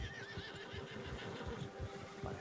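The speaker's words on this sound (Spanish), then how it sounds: "Vale, vamos a dejar los caballos." A horse in the Red Dead Redemption 2 video game gives a loud, wavering neigh over soft ambient outdoor noise, with faint hoof clip-clop underneath.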